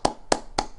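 Three short, sharp claps spaced evenly about a quarter second apart, close and moderately loud, a brief burst of podcast applause for a video game community member.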